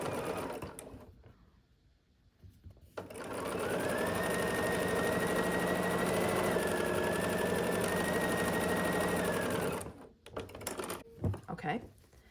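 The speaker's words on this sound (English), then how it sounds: "So I flip that over and we're just gonna sew this right on." A sewing machine stitches a skinny strip onto a sailboat quilt block in one steady, close run of about seven seconds, with softer handling sounds and a few clicks before and after.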